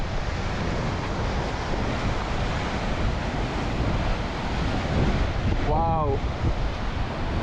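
Extreme wind roars across the microphone while heavy sea waves crash on the Scottish coast during Storm Ashley, a loud, constant rumbling buffet, with one brief exclaiming voice near the end.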